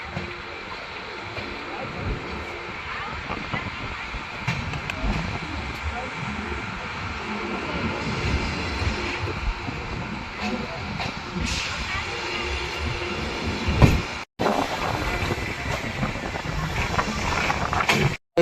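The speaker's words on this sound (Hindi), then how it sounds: "क्या सुंदर कर्व ले रही है अपनी स्वराज एक्सप्रेस" Swaraj Express passenger train, with a WAP7 electric locomotive in view, runs on rails around a curve approaching Pathankot Cantt; a loud, steady rushing rumble mixed with wind noise continues throughout, with brief dropouts near the end.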